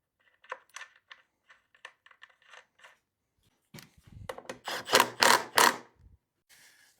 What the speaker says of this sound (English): Cinch it down with the nut.